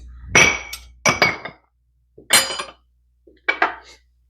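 A French butter dish being handled in a kitchen gives four separate clinks of ceramic, sharp and close with short ringing tails and quiet gaps between.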